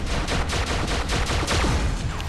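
Rapid bursts of gunfire from guns in the video game War Robots, a quick rhythmic series of sharp shots like automatic weapons, loud and continuous for a couple of seconds.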